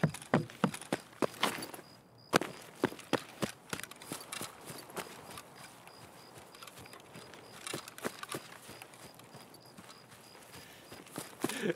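Horse hooves clip-clop in a video game, a run of sharp, fairly close hoof strikes in an uneven walking rhythm with a short pause near the start, then steadier steps.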